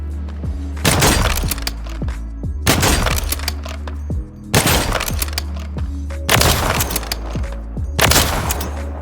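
Stalker sniper rifle shots from Warzone 3 ring out four or five times at spaced intervals, each a loud, sharp crack with a ringing tail over a low constant hum.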